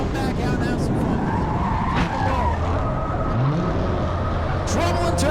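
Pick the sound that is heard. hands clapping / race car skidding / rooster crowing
race car skidding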